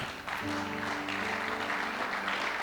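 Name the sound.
congregation applauding at a church seminar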